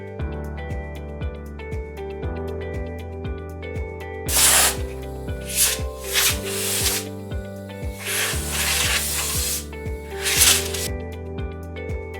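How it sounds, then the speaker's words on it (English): A pneumatic air gun blows out the bore of an air pilot valve in several loud, hissing bursts of varying length, set over a steady rhythmic musical background, without speech. "clean the bore thoroughly with a pneumatic air gun or cotton cloth"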